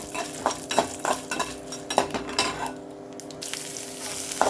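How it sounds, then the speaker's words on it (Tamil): Mustard seeds and urad dal tempering in hot oil, a close crackling sizzle with sharp pops, broken by metal spoon clinks and stirring scrapes against the pan; no voices. "எண்ணெய் நல்லா காஞ்ச உடனே கடுகு, உளுத்தம்பருப்பு தாளிச்சுக்கோங்க"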